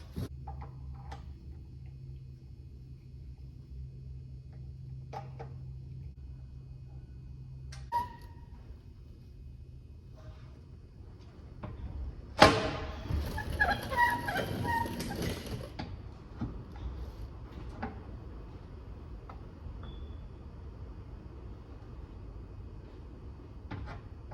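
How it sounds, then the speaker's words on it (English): Small hand tools turn thin Allen head bits to drive fasteners into an AMP Power Running Board on a 2008–2016 Ford F-250/F-350, giving faint intermittent ticks and clicks, then a louder burst of rattling metal handling mid-clip, with no talk. "we're gonna run in with our hand tools yet again these skinny little Allen head bits"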